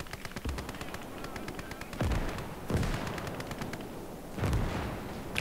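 A StuG 33B's 76mm field gun fires in the Gates of Hell real-time strategy game on the Mamayev Kurgan map, booming several times amid constant background battlefield gunfire and artillery.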